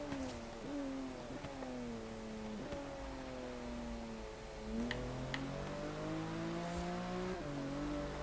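Car engine in the Forza Horizon 3 racing game, a steady mid-level engine drone that rises and falls through gear changes with a few faint ticks, heard from inside the car.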